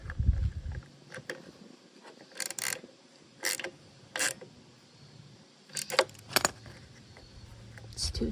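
An 8mm nut is tightened on a Ryobi leaf blower, making a series of small, sharp metallic clicks and ratcheting bursts spread out between quiet pauses.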